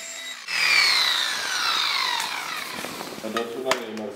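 FLEX PE 150 18.0-EC cordless polisher working car paint, a whining motor tone that spins up sharply and then slowly drops in pitch, close and fairly loud, with a voice talking near the end.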